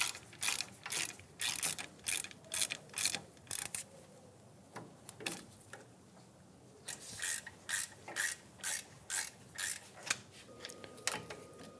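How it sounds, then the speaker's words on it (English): Ratchet fitted with a 7mm hex bit backing out brake caliper bolts on a 2007-2017 Ford Expedition, quick bursts of clicking in repeated strokes, close and fairly quiet, with a short pause midway. "Using a 7mm hex bit, we're going to remove the caliper"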